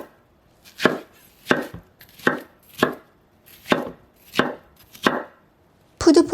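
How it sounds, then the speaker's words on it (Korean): Eight sharp knife chops through a peeled onion on a cutting board at an uneven, steady pace, close and clear, with a brief clatter at the end. "껍질 깐 양파도 대강 썰어주세요."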